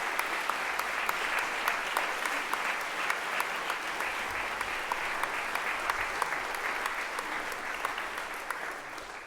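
A school athletic colours ceremony where a gathered audience gives sustained, even applause with many individual sharp claps for athletes standing to be recognized, moderately distant in a large hall.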